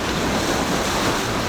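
Sea waves breaking on the East Sea coast along the Yeongdeok Blue Road coastal walking path, heard as a continuous, loud, close wash of surf with no voices.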